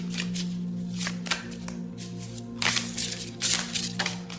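Tarot cards shuffled by hand during a reading, a steady papery riffling with several louder bursts of flicking and slapping cards, close and alone over a low background hum.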